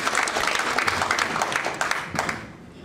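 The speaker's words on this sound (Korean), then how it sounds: "박수 한번 보내주시면 감사합니다" An audience at a Korean commemorative event applauds after a reading, a dense spread of clapping with a few louder bursts that thins and fades toward the end, heard alone and fairly close.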